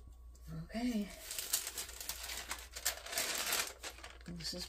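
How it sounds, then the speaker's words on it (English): Parchment paper crinkles and rustles as it is handled and smoothed during a craft project, with crisp, irregular crackles close up, and a voice speaking briefly at the start and end. "this is parchment paper"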